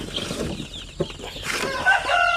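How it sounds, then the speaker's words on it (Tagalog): Newly hatched chicks from an incubator, kept in a simple brooder, give thin high-pitched peeps that rise out of a low, soft background near the end, with no talking. "ipapakita ko sa inyo yung ating mga sisiw na galing sa incubator oh"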